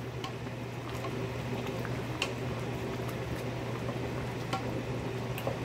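Chicken curry boils steadily in a pot, a faint continuous bubbling with small scattered pops over a low steady hum.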